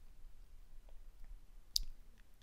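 A single sharp mouse click on an interface button, brief and close, standing alone over a quiet background hiss with no talk.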